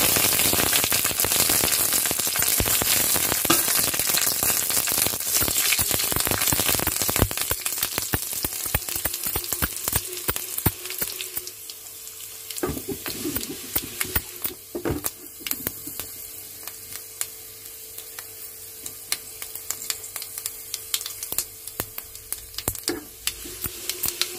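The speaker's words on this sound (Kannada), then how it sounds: "ನೋಡಿ ಸಾಸಿವೆ, ಮೆಂತ್ಯ ಮತ್ತು ಕರಿಬೇವು, ಒಣಮೆಣಸಿನ್ಕಾಯಿ ಅಷ್ಟನ್ನು ಹಾಕ್ತಾ ಇದ್ದೀನಿ." Mustard seeds, fenugreek, curry leaves and dry red chilies sizzle in hot tempering oil for a sambar. A loud, dense crackling sizzle runs throughout, easing somewhat midway, with occasional stirring scrapes.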